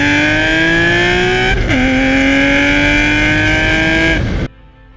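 BMW E46 M3 straight-six revving hard through an aftermarket exhaust, a loud, close, sustained rising howl with a brief dip in pitch midway before it climbs again and cuts off abruptly near the end.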